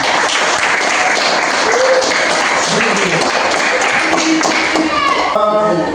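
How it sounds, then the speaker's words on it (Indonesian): Classroom applause at the end of a coding and computational thinking lesson, a dense steady wash of many hands clapping for the whole stretch, with brief tones and voices mixed in near the end. "Mari kita berikan aplaus untuk kita semua."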